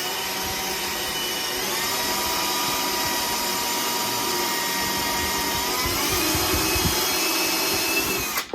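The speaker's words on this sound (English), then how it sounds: "But it drills pretty quick because it's fiberglass." A drill spins a 3/8 inch bit into a fiberglass fender on a 1969 Trans Am. The whine is loud and steady, shifts pitch slightly partway through, and cuts off at the end.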